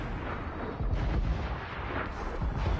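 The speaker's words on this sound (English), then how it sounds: "Nice mortar shot." Ship-fired mortar in Assassin's Creed Rogue naval combat produces a dense, muffled rolling boom and rumble, sustained over nearly three seconds at moderate loudness with no talk.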